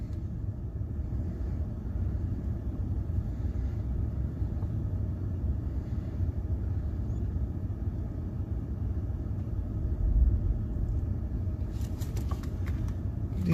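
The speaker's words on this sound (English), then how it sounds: "The constant rumble of thunder." Constant low rumble of distant thunder during an Oklahoma storm chase, a continuous deep drone with no clear claps, faint and steady throughout.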